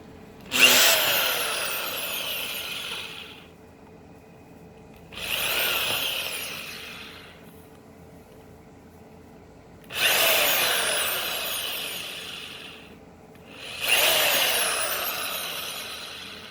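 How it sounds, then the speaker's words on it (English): A power drill drives small screws into a pegboard for a jewelry display, in four separate whirring bursts of a few seconds each with quiet pauses between, close and fairly loud. "We just want to put the screw in, and the screws are really small."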